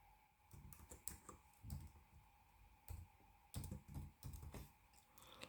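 Typing on a computer keyboard, scattered short bursts of key clicks with brief gaps, close and quiet over a faint steady hum, no talk.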